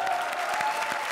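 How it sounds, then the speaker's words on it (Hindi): A studio audience at a comedy show claps in a dense, even burst of applause, brief and fairly close, with no voices over it. "तालियां"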